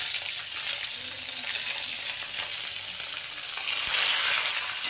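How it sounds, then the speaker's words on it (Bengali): Chopped onion with green chillies sautés in a hot pan, a steady, bright sizzle running continuously at moderate loudness with no talking. "পেঁয়াজটা হালকা একটু ছাঁচলে দেব"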